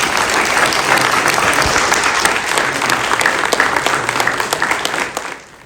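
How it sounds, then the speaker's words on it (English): An audience at a school district's State of the District event applauds a staff member retiring after 35 years of service, with full, sustained clapping from a large room that tapers off near the end. "one more round of applause for Mr."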